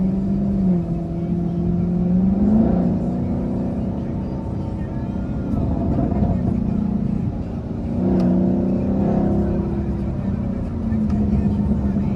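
A sports car engine with an aftermarket exhaust rumbles and revs in steady, throaty surges close by, with people talking over it.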